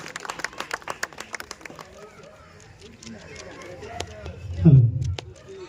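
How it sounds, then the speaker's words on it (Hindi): Scattered hand clapping from an audience welcoming a guest at an outdoor Republic Day celebration at New Pragati Club, a burst of uneven claps that fades into murmuring crowd noise, followed by a heavy thump. "इसलिए आप लोग सभी के तालियों के साथ स्वागत करेंगे उनका"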